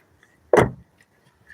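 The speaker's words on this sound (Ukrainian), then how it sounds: "Бачите, як дверки в нього зачиняються." The door of a 2018 Toyota Prius hybrid shuts once with a single solid, close thud, then quiet.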